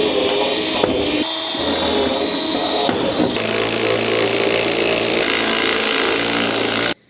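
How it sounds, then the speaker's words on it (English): A power drill whines loudly at close range, pre-drilling holes in wood for lag screws for a garage storage rack, with a couple of brief pauses and pitch shifts before cutting off abruptly. "I'm pre-drilling my holes."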